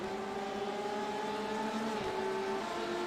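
Race car engine in an iRacing simulation of the Watkins Glen 24-hour race, a steady droning rev held at a fairly constant pitch with a slight dip near the end, heard faintly and alone.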